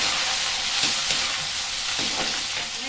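Prawns hit a hot, sizzling pan for a Tamil prawn curry. A loud, continuous hiss runs throughout, punctuated by a few soft stirring knocks, with no one speaking.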